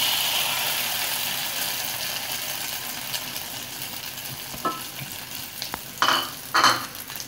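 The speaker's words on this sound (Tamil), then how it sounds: "ஸோ இப்போ எண்ணெய் நல்லா காயுது. இந்த மாதிரி சமயத்தில் நம்ம இதை ஊற்றுவோம் முட்டையை." Hot oil sizzling as beaten egg is poured in for a karandi omelette, an even, continuous crackle that swells near the end, with a few sharp utensil clicks and taps close by.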